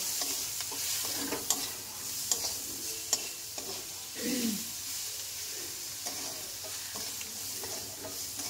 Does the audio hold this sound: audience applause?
no